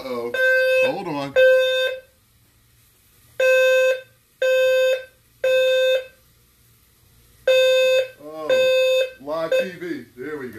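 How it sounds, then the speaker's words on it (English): A smoke detector goes off in a kitchen while vegan stuffed mushrooms are being cooked, sounding loud repeated electronic beeps in bursts separated by pauses, with people talking between and over the alarm. "Uh-oh, there's the smoke detector."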